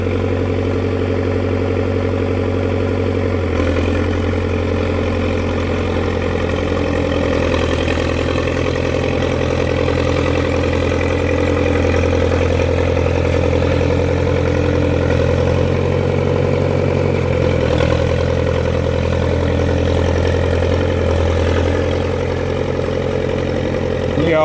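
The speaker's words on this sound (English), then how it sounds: "Hear the motor pulling. Didn't have a very big load for it there, but I like the way the motor sounds when it's pulling." A 1957 International dozer engine labors under load, a loud, steady diesel drone with a deep low rumble and periodic knocking that bogs slightly, running continuously with no talk.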